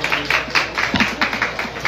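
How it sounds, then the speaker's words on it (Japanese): An audience in Tokyo gives light, scattered clapping after a live drawing session at an American comics event, uneven taps that come close and continue briefly. "今一度拍手をお願いします"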